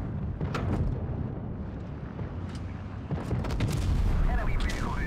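Tank cannon fire and shell hits in the World of Tanks Blitz mobile game with an M103 heavy tank, a dense continuous rumble of booms and battle noise with brief higher electronic tones near the end.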